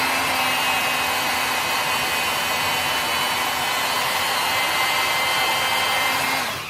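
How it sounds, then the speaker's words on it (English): A brass gyroscope flywheel spins up with a loud, steady, close whirring whine that holds throughout and fades slightly at the very end. "let me spin up the brass flywheel on this gyroscope"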